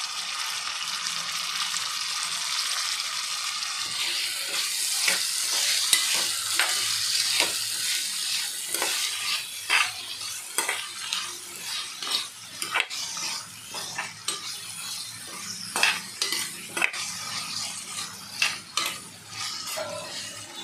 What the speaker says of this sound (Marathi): याच्यामध्ये मी बटाटा, गाजर आणि तोंडली घेतलेली आहे।